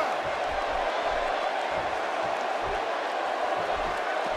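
Arena crowd roaring in WWE 2K18 before a Roman Reigns match in Phoenix, a steady dense wash of cheering and crowd noise held at even loudness throughout.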